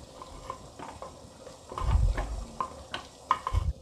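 Cumin and Kashmiri red chilli powder stirred into frying mutton masala, a soft sizzle under irregular thuds and scrapes of a spoon against the pot, close and fairly quiet.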